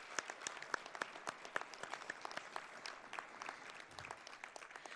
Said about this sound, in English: let's give one more loving round of applause for our families